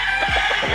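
A six-month-old stag, a young rooster, lets out short crowing and clucking calls, several quick close vocal bursts over steady background noise.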